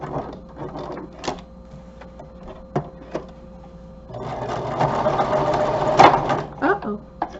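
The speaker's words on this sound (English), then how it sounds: "So you have to talk nice to my sewing machine." A home sewing machine used for crafting fabric tags, with short bursts of stitching followed by a longer loud whirring run, while someone talks over and between the bursts.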